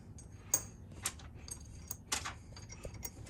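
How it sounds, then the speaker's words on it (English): Small metal synchro keys dropped into a transmission synchro hub during an R Series Dyna fifth gear modification, a few faint light metallic clinks and ticks spaced irregularly, close but quiet. "You're gonna drop the synchro keys in."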